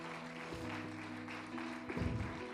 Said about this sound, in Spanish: Denle un aplauso a estas 3 mujeres